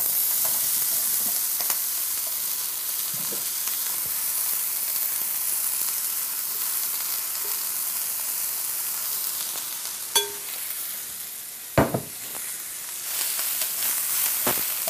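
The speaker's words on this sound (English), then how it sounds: "We'll stir fry this for 6 to 8 minutes until the vegetables" Marinated vegetables stir-fry in a very hot wok, giving a steady close sizzle and hiss, broken by a couple of sharp clanks of a spatula against the pan near the end.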